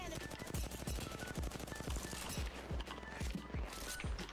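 Rapid gunfire in the battle royale game Apex Legends, a steady rhythm of repeated shots throughout, moderately loud and continuous with a faint sharp crack at the very end.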